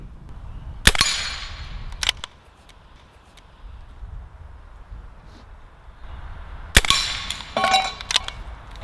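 A Pinty P-Force toy blaster firing, with sharp cap-gun-like snaps and mechanical clacks, two distinct loud shots separated by quieter handling rattles and clicks, close to the listener.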